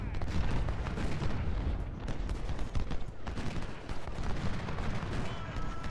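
Civil War artillery bombards the enemy in Ultimate General: Civil War, with dense overlapping cannon booms and crackling gunfire rolling continuously across a loud battlefield.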